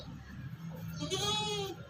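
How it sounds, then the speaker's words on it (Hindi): A goat at a livestock market lets out one wavering, nasal bleat near the close, over low background murmur and handling noise. "ये एक बकरा है"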